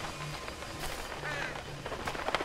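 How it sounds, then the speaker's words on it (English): Duck-like quacks from the horror video game All Is Dust come in short nasal bursts several times over a dull background hum, moderately loud, with no speech. "Sounds like a duck."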